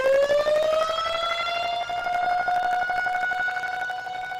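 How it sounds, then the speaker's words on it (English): A loud outdoor tornado warning siren wails continuously, its pitch rising and holding in a long steady tone with clear harmonics. "Most counties have outdoor tornado sirens. Their loud wail assures everyone outside can get the warning."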